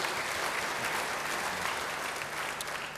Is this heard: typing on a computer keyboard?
no